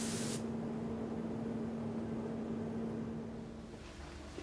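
Spray gun spraying paint, an even hissing rush that runs almost to the end before easing off, with a steady tonal hum beneath it.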